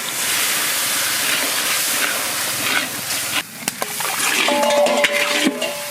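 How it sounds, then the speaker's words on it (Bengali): Water splashed into a hot pan of mutton curry with turmeric, coriander, cumin and dried chillies, cooked in a village kitchen, sets off a loud, sustained steam hiss that eases into softer sizzling with a few utensil clinks. "হালকা একটু জল দিয়ে দেবো।"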